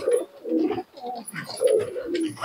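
Pigeons at a pigeon market in Murshidabad, close and fairly quiet, giving a run of soft throaty coos in short repeated bursts, with faint chirps above them.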